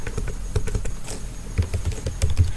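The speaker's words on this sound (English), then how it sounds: "So I'm just going to type in some text here." Rapid, uneven keystrokes on a computer keyboard come in short bursts with brief pauses, close and clear, with no talking.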